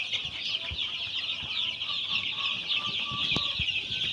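A flock of Colorbird chickens in a poultry shed with its curtains raised keeps up a dense, continuous chorus of clucks and chirps, steady and close with a few faint knocks.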